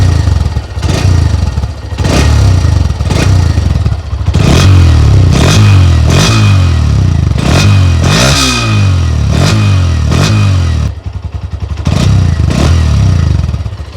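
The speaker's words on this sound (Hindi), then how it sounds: "अभी आपको एग्जॉस्ट की आवाज़ सुनाता हूँ" A 2024 Hero Xtreme 125R, a 125cc sporty commuter motorcycle, is revved hard through its exhaust in a series of loud, close, rhythmic blips, roughly one per second, with a brief dip partway through.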